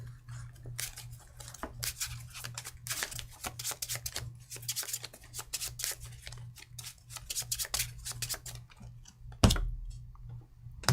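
A deck of cards for the Earthborne Rangers board game is shuffled with quick riffling snaps and taps in a steady run, close by, over a low steady hum with no talking.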